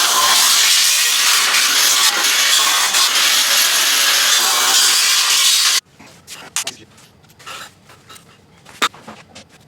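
Power saw cutting crossbars for a pull-behind boom sprayer, a loud continuous rasping buzz for several seconds that stops abruptly, followed by scattered clanks and handling noises.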